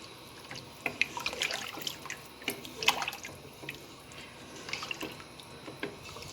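Beef nalli nihari is stirred in a pot, giving wet, sloshing liquid sounds with scattered clicks and small splashes that rise and fall over several seconds, close by and without speech.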